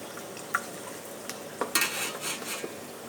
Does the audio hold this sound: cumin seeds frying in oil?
yes